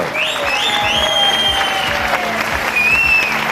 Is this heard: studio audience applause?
yes